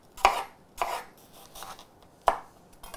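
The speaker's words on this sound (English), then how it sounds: "So I'm slicing these about between 1/8 and 1/4 inch thick." Knife slicing apples on a cutting board for homemade apple pie filling, four separate crisp cuts with board knocks spaced unevenly, close and fairly clear with no talk.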